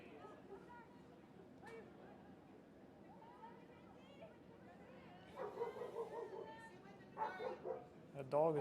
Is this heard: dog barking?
yes